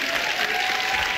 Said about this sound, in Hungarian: Tapsot kérek.